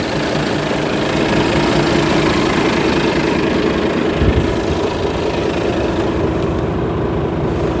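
A 2017 Volvo FM410 truck with a 10.8–11 litre diesel engine idles close by, making a steady, rumbling, slightly rattling drone with a brief low thump near the middle.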